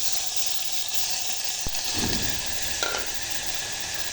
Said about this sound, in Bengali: এখন আমি এতে আদা রসুন দিয়ে দিচ্ছি